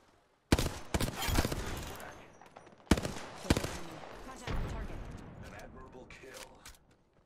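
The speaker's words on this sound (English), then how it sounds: "Open fire on the enemy." Gunfire in the Apex Legends video game: abrupt loud bursts of rapid shots, one at the start and another about two seconds later, followed by scattered cracks and clatter. People talk between the bursts.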